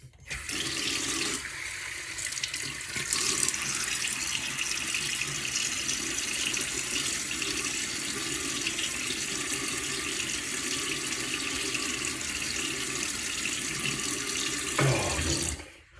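Bathroom tap running into a sink while a face is wetted before shaving, a loud, steady rush of water that starts after a moment and stops abruptly near the end.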